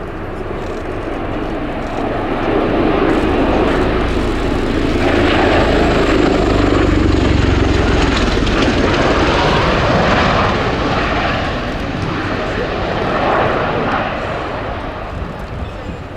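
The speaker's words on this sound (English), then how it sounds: "pilots would regularly tilt the Osprey's nacelles to 80 degrees for jump takeoffs" USAF CV-22B Osprey tiltrotor flying at the Royal International Air Tattoo air show, a loud sustained roar and heavy rotor thrum that swells and fades as it passes, with a voice talking over it.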